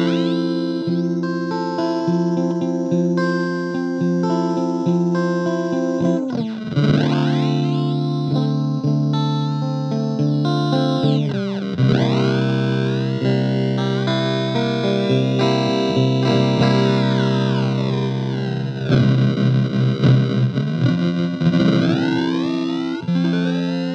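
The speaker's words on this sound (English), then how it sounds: "we'll use the expression pedal to sweep from a clean, unfiltered sound to a reduced sample rate and bit depth with low-pass filter" Electric guitar run through an Electro-Harmonix Mainframe bit crusher pedal, swept by expression pedal from clean tone into reduced sample rate and bit depth with low-pass filtering; sustained chords warp, dip and glitch continuously, loud and alone.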